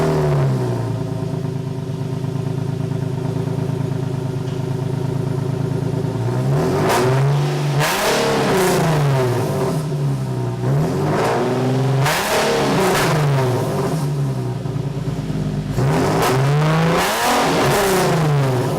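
A car engine with test pipes installed idles with a steady, droning burble, then revs repeatedly in loud, rising and falling bursts.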